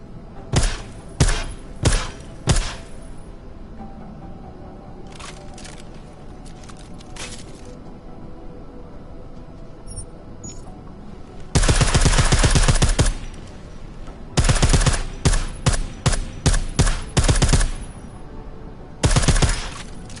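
Silenced gunfire in Deus Ex Mankind Divided, clusters of rapid suppressed shots fired in bursts and long sustained sprays, loud and close, separated by short quiet pauses.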